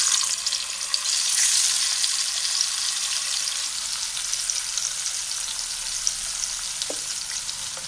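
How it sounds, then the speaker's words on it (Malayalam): Green plantain pieces frying in hot coconut oil in a pan give a loud, steady sizzle that runs unbroken throughout, with a faint clink near the end. "അതിലേക്ക് ഇതിട്ടൊന്ന് ഫ്രൈ ചെയ്തെടുക്കണം."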